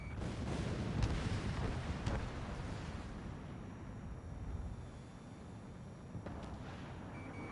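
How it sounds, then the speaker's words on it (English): Gunfire from vehicles in the Ace Combat video game: low, rumbling booms and thuds, with a few sharp impacts over a continuous dull roar, fairly faint. "We're taking fire from vehicles blocking our path!"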